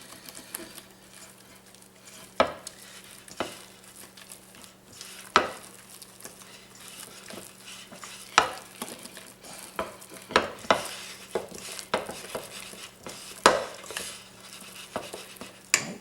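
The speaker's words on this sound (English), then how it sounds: "Fold that egg in with that potato." Egg being folded into mashed potato for gnocchi, soft wet stirring and scraping strokes in an irregular rhythm, with several sharper knocks of the utensil against the bowl, close and fairly quiet, no talk.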